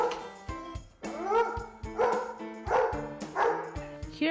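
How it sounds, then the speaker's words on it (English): Repeated dog barks and yips come in a rhythmic series of close, fairly loud bursts with short gaps, some sounding whiny, with no other sound competing. "Dogs can make a variety of interesting sounds, like barks, growls, whines,"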